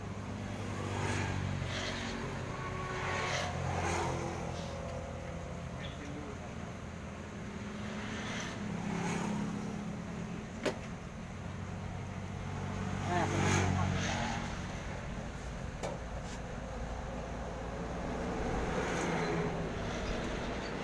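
Vehicles pass along a roadside, with engine and tire noise swelling and fading in several waves. Steady background rumble and a voice can be heard throughout.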